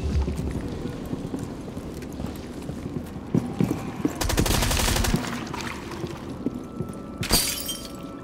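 Impact grenade detonating in a shooter video game, a sharp broadband burst among clattering in-game effects, with a second loud blast shortly after over busy background game audio.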